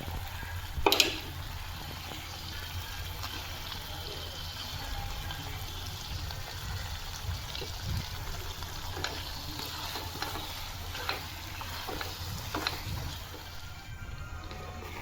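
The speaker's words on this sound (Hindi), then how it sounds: "देखिए भुनने लगा, ऑयल सेपरेट होने लगा" Masala with paneer fries in oil in a home kitchen pan, giving a soft steady sizzle with occasional stirring scrapes and a brief clatter near the start, quiet and close with no talking.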